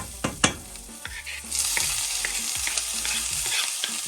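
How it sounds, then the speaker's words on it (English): Vegetables sautéing in a pan before tomato and cilantro go in, a close bright sizzle that swells after a couple of sharp knocks and continues with stirring scrapes. "I'm gonna saute that for just a minute before I add the tomato and the cilantro"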